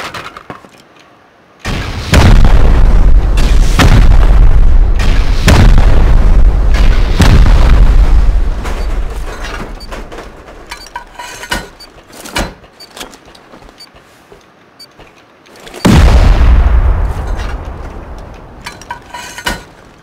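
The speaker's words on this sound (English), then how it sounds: "Let's rocket it. Four rockets, and then" Rockets and C4 blowing up a base in the video game Rust: two loud, booming blasts with long rumbling tails, the first sustained for several seconds, the second near the end, with scattered smaller thuds between.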